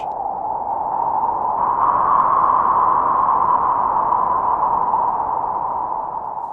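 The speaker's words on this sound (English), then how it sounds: "I generally prefer a darker noise for this type of sound or patch." A steady, dark band of filtered noise from a Nord Drum 3P drum synthesizer hums evenly for several seconds, muffled and without attack or rhythm.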